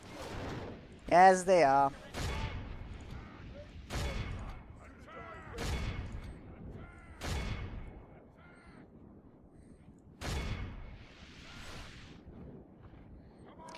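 Troops firing in a Third Age Total War battle, with a series of sharp, spaced volleys cracking out at intervals; someone speaks briefly between them.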